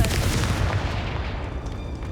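Confringo blasting curse going off in Hogwarts Legacy, a dense rumbling blast with heavy low-end boom that stays loud and churning throughout, no voices.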